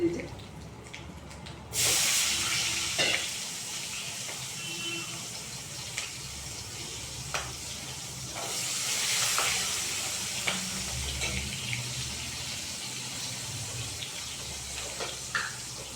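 Chopped onions sizzle and hiss in a pan at low, steady volume, with intermittent scraping and clicks of stirring and a brief louder surge of frying partway through.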